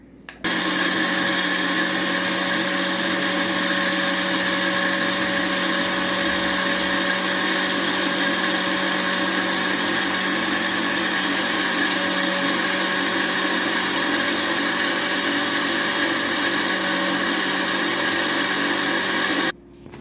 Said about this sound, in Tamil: தக்காளியவும் இதேமாரி நல்லா கூழாக அரைச்சி எடுத்துக்குவோம்